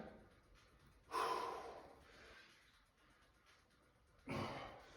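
Two deep breaths during a golf warm-up stretch, each a loud, close, airy inhale lasting about a second, separated by quieter breathing in a calm room.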